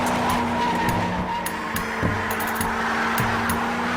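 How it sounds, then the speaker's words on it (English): A tuned diesel truck's tires burn out in a loud, continuous squealing skid with a steady engine drone underneath, sustained throughout with brief spikes of harsher screech. "your tires become rotating smoke bombs that just burn up and blow away"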